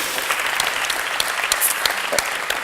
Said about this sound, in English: Applause for the Red City.